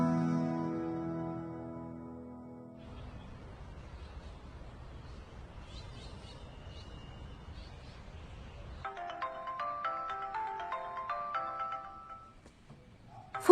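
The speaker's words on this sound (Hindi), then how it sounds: "फोन आ रहा है। सुबह से फोन कर रहा है।" A phone ringtone plays a melodic tune, fading into a softer rumble before the bright chiming melody returns, with no one speaking.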